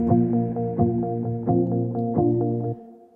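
Low-passed piano, acoustic guitar and a guitar lead play together as a soft, muffled bed for a vocal, with repeating chord strikes roughly every 0.7 seconds, then stopping abruptly near the end.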